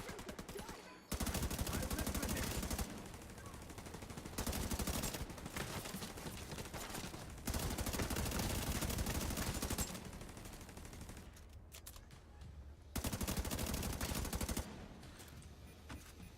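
Sustained automatic gunfire from a deployed turret and rifles in The Division 2 video game, loud bursts of rapid shots in rolling waves with brief lulls, a voice faintly present beneath the firing.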